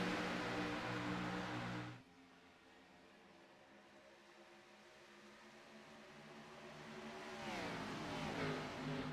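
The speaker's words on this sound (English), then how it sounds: "engines come to life, and we are green flag racing" Race car engines in an Xfinity Series race at Atlanta come to life at the green flag, a loud roar that drops after two seconds, then steady droning engine noise that swells and rises in pitch as the field accelerates.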